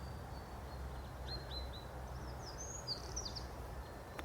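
Wild birds call by a river at Low Locks, Deeping St James, with a few brief high chirps and whistles scattered over a steady low rumble of flowing water.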